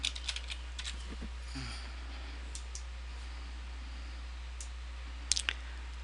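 Typing on a computer keyboard during a map-making software session, with scattered, faint key clicks in short bursts over a steady low hum from a computer fan.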